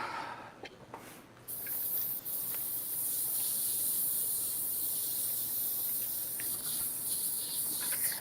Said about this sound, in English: Clean out the airbrush once again.